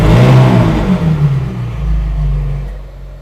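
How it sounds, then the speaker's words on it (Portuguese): A Ferrari 458 Italia with a valved exhaust fires up and revs hard, then settles into a deep, loud rumbling idle heard from inside the car. "engine start."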